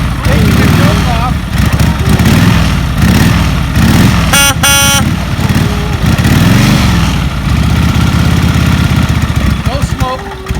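A 1957 Harley-Davidson Panhead motorcycle engine runs steadily and loudly close by, a lumpy idle with a brief rev partway through, with talk over it.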